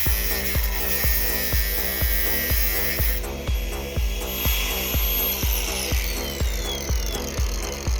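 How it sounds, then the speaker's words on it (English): An abrasive cut-off wheel slices a metal piece to length while a custom rear sump oil pan is being made, giving a steady loud grinding whine broken by regular rhythmic pulses, close and continuous with no talk. "just basically cutting this off to length right now. I've got trusty death wheel right here."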